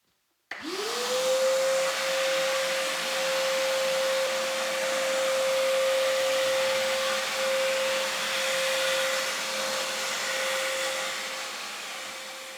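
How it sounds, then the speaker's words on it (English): A vacuum cleaner cleans the grit and grime off a floor in a Victorian house under renovation. It kicks on abruptly and runs with a loud, steady whine and roar for the whole stretch, easing slightly at the end. "I'm going to vacuum up this floor so that I'm not sitting in grit and grime."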